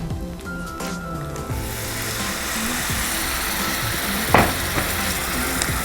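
Spices such as Kashmiri chili powder with ginger garlic paste and a little water sauté in a pan for a veg korma, a steady close sizzle with occasional stirring scrapes and clinks.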